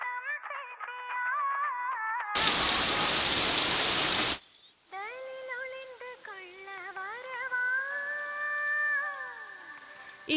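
Heavy rain pours down in a loud, dense, even roar for about two seconds, then cuts off abruptly, with musical tones and quieter passages before and after.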